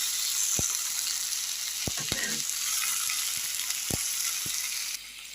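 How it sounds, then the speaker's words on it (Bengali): Mango pickle stirred in a pan after yogurt is added, a low continuous frying hiss with a handful of sharp spoon clicks against the pan spread across the stretch, quiet and without speech. "দইটা দিয়ে আর একটু নাড়াচাড়া করে নিই"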